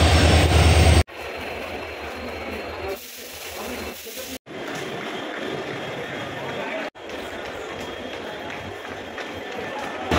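Mumbai–Howrah Mail, train 12809, leaving platform 15 of a station, a steady rolling rumble of wheels and carriages close by with several sharp cuts and a distant horn-like tone, under faint voices.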